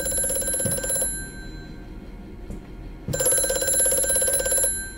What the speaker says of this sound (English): Ominous telephone.